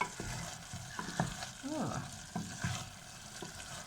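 Turkey goulash being stirred and mixed in a frying pan, with a continuous close sizzle under irregular scraping and clinking of the utensil against the pan, and no voices.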